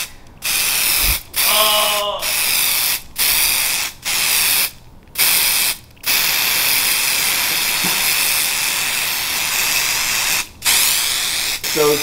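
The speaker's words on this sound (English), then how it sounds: "It just says shake and spray." Several short bursts of aerosol spray hiss, each about a second long, separated by brief pauses, loud and close.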